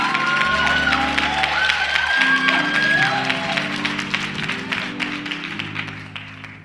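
A congregation at Buck Street Memorial Church of God in Christ applauds and cheers during a Family & Friends service. The clapping is dense with scattered whoops over sustained organ-like chords, then tapers off near the end.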